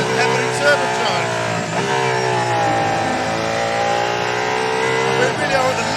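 A naturally aspirated hypercar engine revs steadily on the move, a loud, sustained, rising and falling roar heard from inside the cabin, with a person talking over it.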